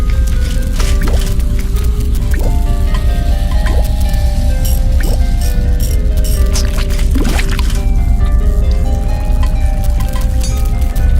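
In the video game The Little Arce, a large bulbous plant full of water blocks a pipe and is pulled away with wet squishing and squelching. Dripping and gurgling liquid sounds play over a steady low hum, with repeated squelches throughout.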